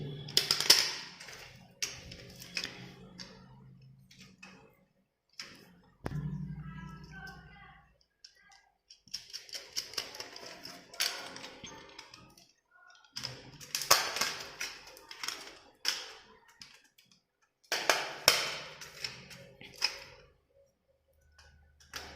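Fitting a socket into an old-model electrical switch board brings a string of sharp clicks, taps and plastic knocks close by, coming in bursts with pauses, while someone talks between them.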